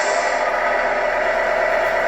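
Simulated truck engine from a Tamiya MFC-03 sound unit fitted in an RC truck's sleeper cab, a steady, dense diesel-like drone with a hiss of air, continuous and fairly loud throughout without talk.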